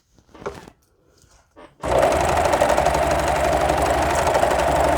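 A Husqvarna Husky Loft serger starts up after a few quiet handling noises, then runs at a fast, even mechanical chatter while stitching fabric, loud and close.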